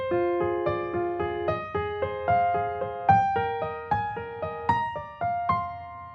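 Solo piano playing a piece, with the second half of the melody moved up to a higher register; a steady series of close, clear chords and notes, each struck and left to ring, with no talking.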